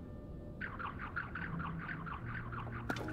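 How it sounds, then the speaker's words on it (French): Birds chirp in a steady run of short, repeated calls in Zelda: Tears of the Kingdom, set against a soft ambient game background and ending in a brief louder click. "On entend gazouiller."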